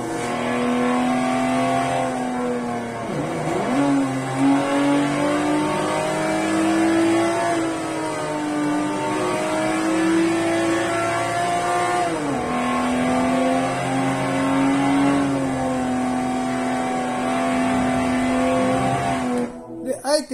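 Racing game car engine in Forza revving steadily with pitch rising and dropping through gear shifts, loud and continuous, with someone talking over it.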